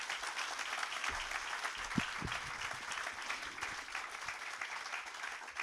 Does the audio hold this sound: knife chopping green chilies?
no